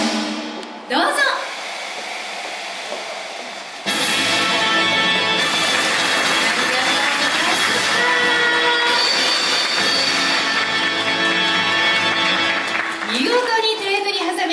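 An electric train rumbles and hums steadily as it pulls away at a departure ceremony in Yanagawa, with wheel noise and a loud continuous roar, a few voices and cheers around it.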